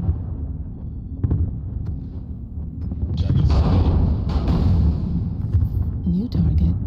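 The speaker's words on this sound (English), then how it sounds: "Warning, incoming missile." Rumbling booms and blasts of incoming missile explosions in MechWarrior Online, a mech combat game set in a frozen city, rolling heavily under game voice alerts.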